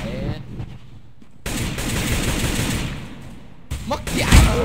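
Rapid automatic gunfire in the video game CS GO on the Dust 2 winter snow map, with sustained bursts of shots, a short pause, then renewed fire that grows louder near the end.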